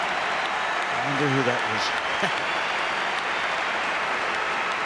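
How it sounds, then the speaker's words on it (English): Continuous stadium applause for David Villa at a Barcelona versus Real Sociedad La Liga match, a steady wash of clapping from a large crowd while a commentator speaks briefly over it. "Even Sandro Rosé, the president, is joining in the applause."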